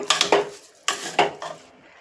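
A spoon scraping and clattering against a pan as washed rice is stirred and roasted for drumstick leaves pulao, two short bursts of metallic scrapes, close and distinct.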